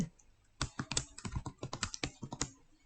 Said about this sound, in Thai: ใส่สูตรเข้าไปตรงนี้พิมพ์ว่า mean